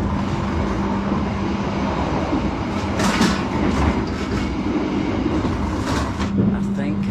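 Passenger train leaving a station in Bandung, Indonesia: a steady loud rumble and rattle from inside the carriage, with brief hissing surges, while a person talks over it.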